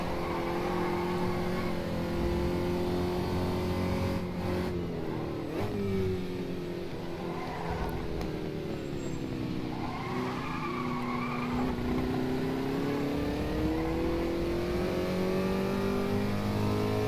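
A race car in the rFactor2 racing sim drives down a straight, its engine droning steadily at high revs with slight pitch swells from gear and throttle changes, continuous and loud, no talk.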